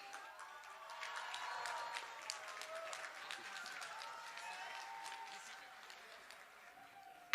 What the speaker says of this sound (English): Everyone, huge round of applause for Mr.